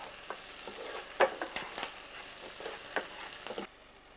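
Chopped garlic and onion sautéing in a pan for a chicken stew, a faint steady sizzle with scattered clicks and scrapes of stirring.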